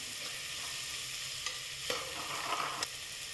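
Sliced onions with ginger garlic paste sauté in a pan for mushroom biryani, a soft continuous sizzle with a few light scraping stirs of a spoon, close and fairly quiet.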